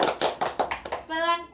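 A class of primary school children claps in a quick run of about eight claps that alternate soft and loud, then a teacher's voice follows.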